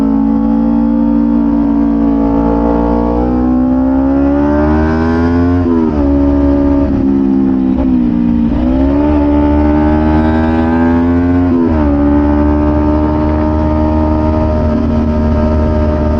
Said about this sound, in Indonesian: Saya udah coba beberapa kali ganti knalpot, cuma Prospeed Python ini yang paling cocok